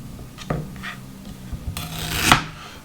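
Kitchen knife cutting fresh ginger root into chunks for a blender: a few scattered scrapes and taps on a board, then a brighter rasping slice near the end, close and fairly loud.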